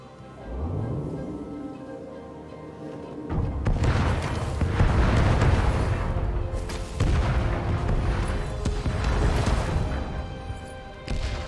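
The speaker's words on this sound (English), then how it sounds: "Your cannons are easily dismissed." Cannon fire in the video game The Path of Destinies, heavy booms and crashing blasts rolling over a continuous loud rumble, with repeated impacts spread across the scene.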